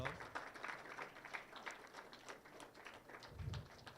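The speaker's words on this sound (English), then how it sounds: "Let us welcome ma'am with a huge round of applause" Audience applause welcoming a guest speaker at a robotics session, faint and distant with steady clapping throughout the clip.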